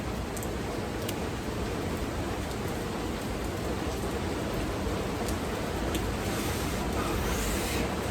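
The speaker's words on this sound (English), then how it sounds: "it is rainy, y'all, and man, it is coming down." Heavy rain pours down steadily in a public park on a rainy afternoon, a dense, constant hiss of drops pattering on surfaces, loud and even for the whole stretch with no voices.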